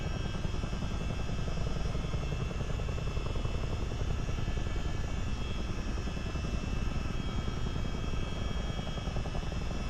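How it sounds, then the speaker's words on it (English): A CH-47D Chinook tandem-rotor military helicopter in the Miltech Simulations flight game gives off a loud, continuous engine whine and a dense, rapid rotor thrum that holds steady throughout, heard from close by with no talk. "thankfully we're in a fast helicopter"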